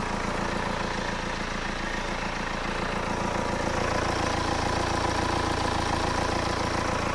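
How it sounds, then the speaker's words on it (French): A BMW engine idles with a steady, even mechanical rumble, close and unbroken throughout. "Le moteur il vibre quasiment pas quand je mets la main dessus"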